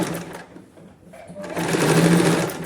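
A sewing machine stitches the puff sleeve of a katori blouse, whirring loudly and close, easing off briefly before running steadily again, with faint talk in the background.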